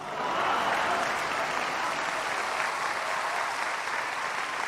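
An audience at a Ram Katha religious recital claps in sustained, dense applause, a steady wash of many hands throughout, with no talking over it.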